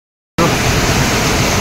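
Floodwater pours from a broken village pond in Santalpur after heavy monsoon rain, a loud, steady broadband rush that starts abruptly and roars on without a break.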